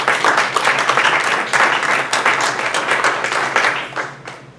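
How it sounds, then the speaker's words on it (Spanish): A church congregation breaks into applause, many hands clapping in a full, continuous roar that holds steady and then tapers off near the end. "Denle un aplauso al Señor."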